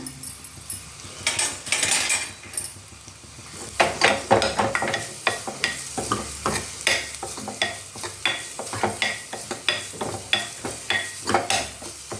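Tomatoes sautéing in a pan for rasam, a bright sizzle punctuated by brisk, regular spoon-on-pan stirring strokes, close and fairly loud throughout.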